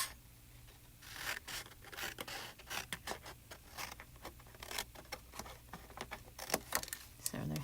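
Sharp scissors cutting through a thick paper sheet, a series of quick crisp snips and rustles close to the microphone, faint and uneven.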